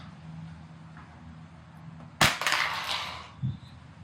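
An iPhone 17 Pro Max tossed into the air lands with a single sharp, loud impact and a brief clattering skid, then a faint knock, against quiet room noise.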